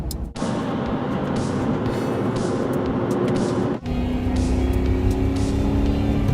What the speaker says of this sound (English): when you get up to higher revs and you hear that noise